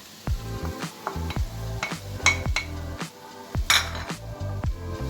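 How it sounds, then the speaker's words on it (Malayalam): A spoon stirs and mixes tender jackfruit thoran in a pan, with quick, repeated metallic scrapes and clinks against the pan and a faint sizzle underneath, close and steady. "നന്നായി ഇളക്കി യോജിപ്പിക്കുക"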